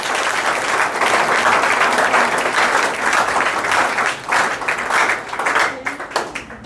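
An audience at a ceremony for Agniveer army recruits in Beawar bursts into loud, sustained applause, dense clapping that holds steady and then thins into scattered claps.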